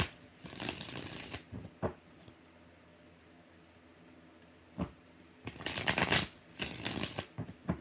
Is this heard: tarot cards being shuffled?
yes